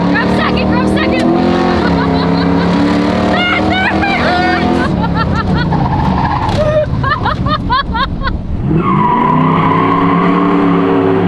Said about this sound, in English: You hopped out the brakes and locked up the rear tires